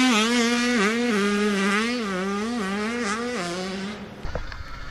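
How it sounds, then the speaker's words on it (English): A GNCC off-road race bike engine wails loudly and close, pitch surging and dipping as the rider works the throttle and shifts, before the note cuts off into rough clatter at the end. "ooh, that bike sounds good."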